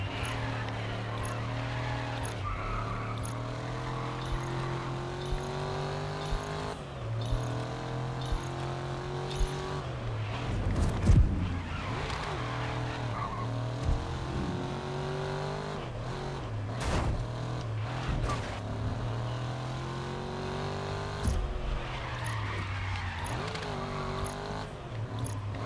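A racing truck in the GRID Legends video game, its engine droning steadily at high revs throughout with gear changes, a brief harsh impact midway and scattered tire noise, loud and continuous.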